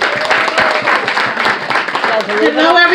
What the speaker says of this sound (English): Let's give our councilwoman Vanessa Gibson a hand clap.